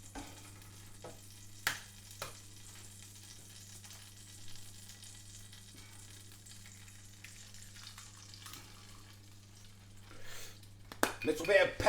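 An egg fries in a pan beside a Yorkshire pudding breakfast, giving a quiet, steady crackle under a low hum, with a few sharp clicks and a busier burst of sizzling near the end.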